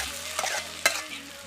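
Potatoes mixed with fried tomato and onion are stirred in a pan, with a few scraping strokes and a sharp knock of the spoon over a soft sizzle and no voices.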